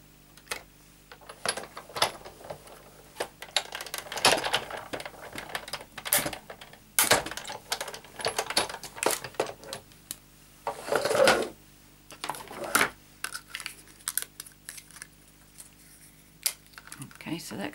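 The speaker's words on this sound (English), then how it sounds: "I'm going to crank that through." Stampin' Up! die-cutting machine cranked by hand with Thinlits ornament dies, giving a close run of uneven clicking and ratcheting mechanical rattles that rise and fall over several seconds, with a person talking around it.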